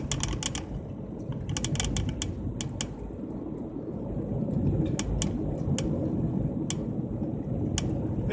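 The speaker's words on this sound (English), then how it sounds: "that clicking noise you hear is the dash camera holder" A dash-mounted phone holder clicks and rattles in a car driving Central Texas back roads. Scattered sharp ticks come at irregular intervals over a low, steady road rumble.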